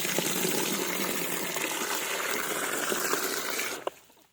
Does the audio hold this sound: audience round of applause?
no